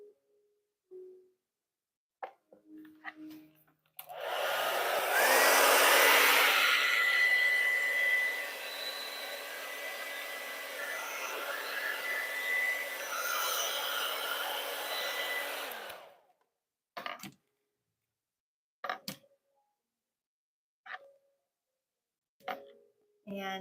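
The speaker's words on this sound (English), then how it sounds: "if I use the hair dryer" A hair dryer blows on a paint pour of an ocean wave design, giving a steady, close, loud whir for about twelve seconds before it cuts off. Brief clicks and handling noises come before and after.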